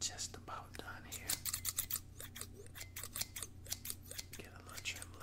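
Scissors snip through hair during a close-up haircut, with rapid irregular clusters of crisp cuts heard near and intimate and faint whispering underneath.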